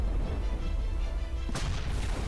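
A unit detonates in the strategy game Zero-K, a sudden broadband blast that cuts through a steady low rumble and then fades, heard once near the end.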